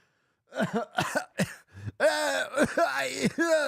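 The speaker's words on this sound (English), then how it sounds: "I'm already coughing and all sorts of crap." Someone coughs several times in short, harsh bursts, then groans and strains through a longer throaty stretch, close to the listener.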